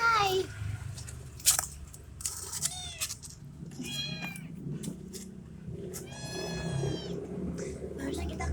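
A small kitten gives a run of high, thin meows and squeaky cries, several short and one longer wavering call, fairly close over a low background rumble, with faint bits of human voice around it.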